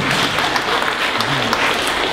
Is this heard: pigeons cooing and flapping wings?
no